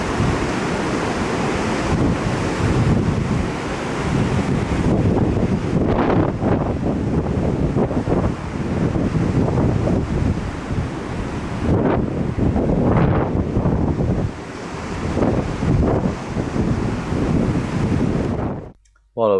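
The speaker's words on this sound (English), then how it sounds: "a quick little bit of slow motion on HFR of the waves coming in over the old Shipwreck" Waves roll in over an old shipwreck on the shore in repeated surging washes, largely buried under heavy, constant wind buffeting the microphone.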